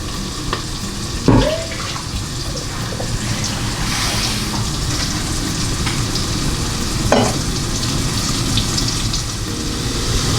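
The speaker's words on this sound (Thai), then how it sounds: "เมื่อเราผัดมะเขือมาได้สัก แป๊บหนึ่งแล้วนะครับ" Eggplant stir-fried in a pan for a Thai squid stir-fry, with a steady broadband sizzle throughout and two sharp utensil clanks against the pan near the start and later on.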